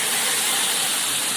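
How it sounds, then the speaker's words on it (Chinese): Rice wine poured into a hot wok holding cured pork trotter, garlic and ginger gives a loud, steady, close hiss of sizzling and steam that lasts the whole moment without a break. "再来一圈米酒"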